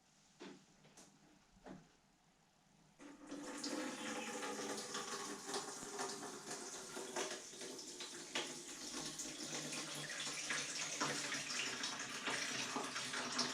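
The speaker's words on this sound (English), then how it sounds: "We start by filling the reservoir with water." Water pours into a reservoir built from Lego bricks, a steady loud rushing splash starting after a few quiet knocks and continuing without talk.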